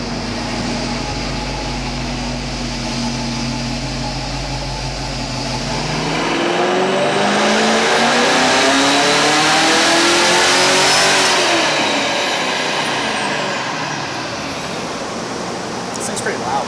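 Loud car engine with headers, no catalytic converters and spoiler mufflers, idling low and then revving up hard into a sustained roaring peak before easing back, close up and alone.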